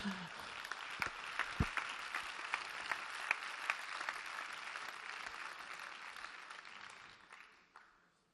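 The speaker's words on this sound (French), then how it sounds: "Venez sous les applaudissements d'une foule en délire" Audience applause at a gala fills the room with dense, steady clapping that holds for about seven seconds, then thins out and fades toward the end.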